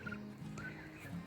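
Domesticated homestead turkeys gobble in a brief, close burst of warbling calls from the flock, loud and alone with no talk.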